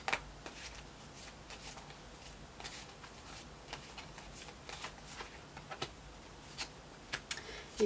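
Tarot cards being shuffled close by, a quiet, continuous papery riffling with scattered soft taps and flicks throughout, no talking.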